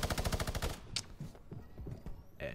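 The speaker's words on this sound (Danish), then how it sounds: "Den her minigun skal ikke begynde at skyde for mig i hvert fald." Minigun in Fortnite firing a loud, rapid stream of shots for just under a second, followed by scattered quieter in-game sounds.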